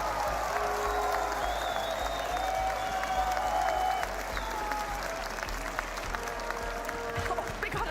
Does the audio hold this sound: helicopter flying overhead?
no